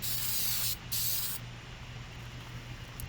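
Close, loud hiss of a spray gun laying clear coat onto car hood vents, two steady bursts with a short pause between, then a quieter fading hiss.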